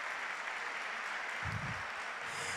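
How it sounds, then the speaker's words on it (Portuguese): Congregation applauding in a church service, a steady, distant patter of many hands clapping at a fairly low level, with no voices. "Você pode aplaudir ao Senhor pela palavra dEle."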